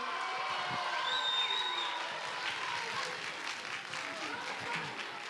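A school event audience in Turkey applauds as a middle school team comes on stage, sustained clapping with some cheering and whoops, a faint whistle-like tone rising briefly above the crowd noise.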